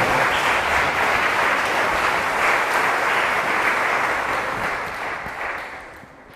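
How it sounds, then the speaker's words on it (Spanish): A church congregation breaks into sustained applause that stays loud and dense, then thins and fades over the last couple of seconds. "Dale un aplauso al Señor"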